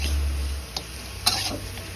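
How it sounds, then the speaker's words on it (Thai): Free-range chicken sizzles in a hot pan as it is stir-fried for a spicy Thai curry, with a couple of sharp scraping clinks as it is stirred, close by and fairly quiet. "ก็ลวนไก่ต่อครับ"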